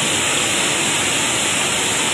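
Heavy rain with strongly rushing water, a dense, loud, unbroken roar of broadband noise that holds steady throughout, with no pauses or distinct drops.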